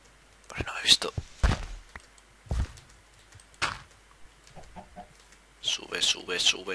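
Chickens in the video game Minecraft give a few short, clucking calls in separate bursts, with quiet speech heard in between.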